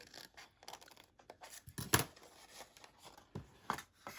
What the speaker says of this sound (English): And then I'm going to cut this one.